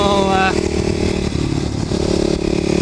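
Kawasaki KLX250SF dual-sport motorcycle fitted with a Muzzy exhaust, riding at an easy pace: a steady, loud single-cylinder engine drone with a slight pitch drop partway, with a rider's voice talking over it.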